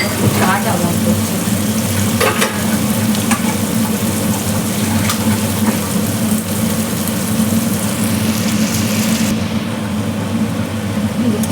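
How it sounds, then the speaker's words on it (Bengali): Flattened rice frying and being stirred in a pan, a steady loud sizzle running throughout with occasional scraping clicks, a low background hum beneath it. "চিড়েটা দিয়ে দিয়েছি, আর ভালো করে মিক্স করবো।"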